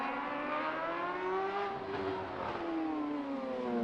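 A race motorcycle engine at the Macau Grand Prix, ridden by Michael Rutter, holds a loud sustained onboard drone in second gear. Its pitch rises and falls as it shifts between throttle and lift, close and continuous.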